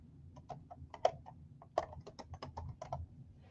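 Crisp, light clicks of typing on a computer keyboard, a quick irregular run of keystrokes with a couple of sharper taps, close and fairly quiet.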